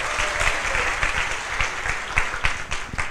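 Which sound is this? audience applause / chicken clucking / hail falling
audience applause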